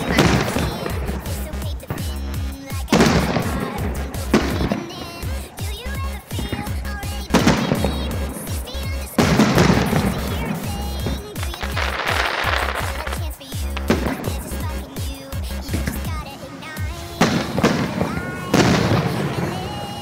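Fireworks explode nearby in loud bursts and crackling rapid-fire volleys, separated by brief lulls, with voices talking between and over the blasts.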